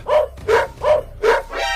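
Cartoon dog barking: four evenly spaced, close, loud barks followed by a drawn-out whiny yelp, alone without talk.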